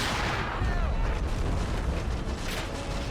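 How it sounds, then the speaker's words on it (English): Massed rifle fire from many soldiers shooting at once in a World War II mountain battle game with Red Army troops, a dense, rumbling roar of overlapping shots and booms with no pause and faint voices underneath. "the suppressive fire from a large amount of troops firing all at once"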